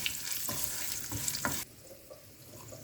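Curry leaves crackle and sizzle as they fry in hot oil until crisp, a dense broadband hiss with a few sharper pops, then the sizzle drops abruptly to a quieter simmer.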